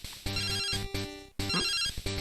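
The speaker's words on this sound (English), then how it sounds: "A phone call." A chiptune phone ringtone from Pokemon Crystal trills in repeated electronic bursts, a bright beeping pattern that cuts off and restarts once, loud and alone with no talk.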